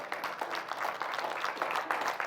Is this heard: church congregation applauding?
yes